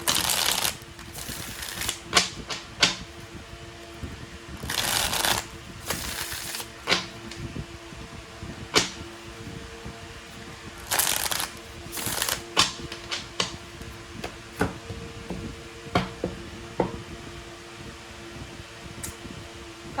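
Tarot cards being shuffled and riffled in quick bursts, with irregular snaps and flutters close by over a quiet room hum.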